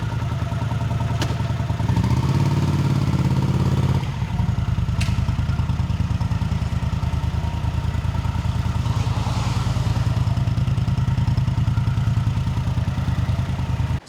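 A 1980 Honda CX500 Custom idles steadily on its stock exhaust, giving a close, continuous low rumbling putter with a slight clatter and a few small blips, with no talking throughout.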